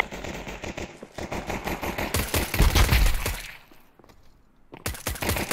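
Rapid automatic gunfire in Counter-Strike 2, an AK rifle firing bursts during a mid rush: a steady crackling stream for about two seconds, then a heavier louder burst, a brief lull, and another burst at the end.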